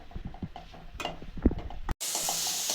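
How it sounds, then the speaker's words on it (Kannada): Green chilies and mint leaves sauté in a spoonful of oil for street-style churumuri, with stirring scrapes and soft clatter over a low sizzle that turns into a steady, brighter hiss near the end. "ಹಸಿರು ಮೆಣಸಿನ್ಕಾಯಿ ಪುದೀನ ಸೊಪ್ಪು ಒಂಚೂರು ಬಾಡಿಸಿದ್ದೀನಿ"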